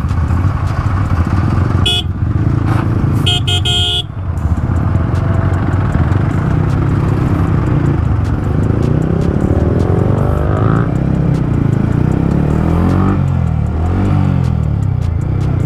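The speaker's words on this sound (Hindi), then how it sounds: "अबे भाई यार इतना कितना ट्रैफिक हो रहा है" Heavy road traffic in Beawar, India, heard from a motorcycle ride: engines drone loudly and continuously as motorcycles and cars pass close by, with several sharp horn honks early on and more vehicles revving through the busy stretch.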